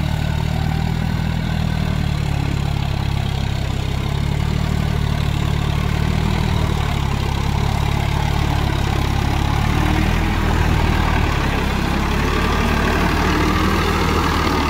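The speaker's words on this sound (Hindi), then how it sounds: "এটা এই গাড়িটা পাওয়ারটেক 45 রামার গাড়ি, 1500 RPM চলছে।" A Powertrac 45 Plus 4WD tractor engine runs steadily at about 1500 RPM with a rotavator attached, a loud constant low rumbling drone that holds even throughout with no talking.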